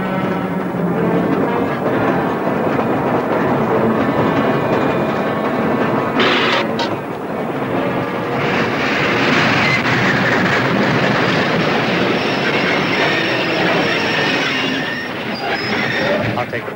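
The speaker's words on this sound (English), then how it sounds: "Stop this train." A train rumbles and grinds along the rails with steady, loud mechanical noise and a brief metallic screech partway through, as it slows.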